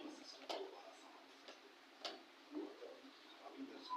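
A wall clock ticks faintly as it is hung on a nail. Evenly spaced ticks sound close by in a quiet room, with soft voices in the background.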